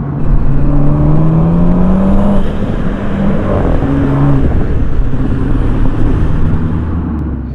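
BMW M135i engine in sport mode pulling hard under acceleration, a loud steady drone with rising and shifting tones running continuously throughout, no talking.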